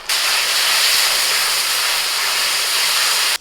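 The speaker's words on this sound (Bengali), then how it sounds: "পেঁয়াজ ভালো করে ভেজে নিয়ে দিয়ে দিচ্ছি আদা রসুন কাঁচা লঙ্কা বাটা তিন চামচ দিলাম" Onions frying in a pan with ginger, garlic and green chili paste added, giving a loud, steady, close sizzle that holds evenly throughout with no voices.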